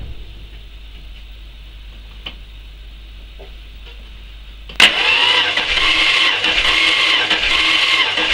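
A 1971 Dodge Dart engine cranking over on the starter after a quiet stretch of faint ticks, breaking into a loud, steady, rhythmic churning that runs to the end, close up with no talk.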